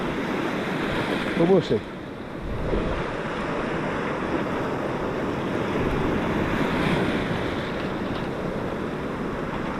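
Choppy sea surf washes steadily over a shallow foreshore with wind buffeting the microphone, a continuous loud wash, while a person wading in the water speaks briefly near the start.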